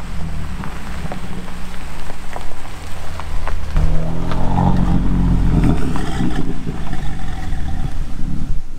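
A supercar rolls in at the Bananarally arrival gathering, its engine note swelling and growling midway through a constant loud wash of wind-like noise.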